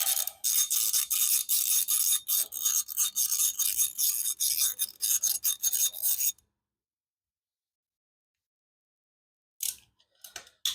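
Close ratcheting and rasping as 5mm bolts are backed out on a dirt bike during a Trail Tech fan install, steady clicking bursts for about six seconds, then silence before a brief return of clicks.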